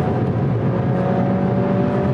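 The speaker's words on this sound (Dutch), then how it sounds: "dan begint hij te loeien tot 6000 toeren" A 2019 Suzuki Swift Sport engine revs in a steady, loud drone from inside the car, a constant engine note with a faint whine and no voices.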